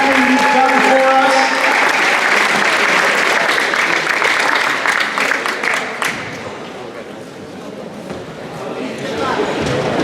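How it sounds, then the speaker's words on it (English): Applause for seniors and their parents at a Richmond High School varsity boys basketball game: dense gym crowd clapping loudly under an announcer's voice, fading after about six seconds. "One more round of applause for all of our hardworking seniors and their parents."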